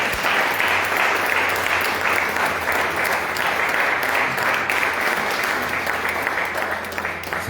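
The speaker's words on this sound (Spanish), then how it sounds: "Pues denle un fuerte aplauso a nuestro Señor." A church congregation at a Spanish-language worship service applauds loudly and steadily for several seconds, a thick continuous wash of clapping with no pause.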